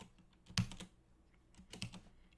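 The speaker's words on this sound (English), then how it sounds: "If I'm typing in the right spot, there we go." Computer keyboard typing while entering code in a function-building exercise, a loud close keystroke burst followed after a pause by another quicker cluster of clicks, with no voice.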